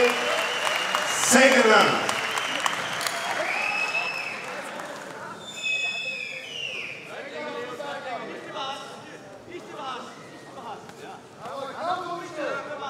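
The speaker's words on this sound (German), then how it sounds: "Ein bisschen Applaus für die Kämpfer." Applause and cheering from the audience at a kickboxing fight night, heard between rounds, swells briefly and fades beneath an announcer's amplified voice in a large hall.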